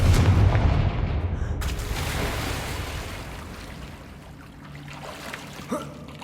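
Confringo blasting spell explosion in Hogwarts Legacy, a heavy booming burst with a rumbling low-end tail that decays over a few seconds, followed by fainter debris and ambient game sounds.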